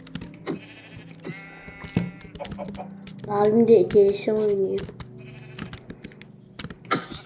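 Sheep bleats ring out in a video game among clicking keyboard taps, with a voice talking over them.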